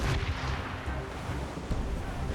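Deep, rumbling ship cannon fire from a naval battle in Assassin's Creed, a dense continuous low boom filling the short stretch with no voices heard.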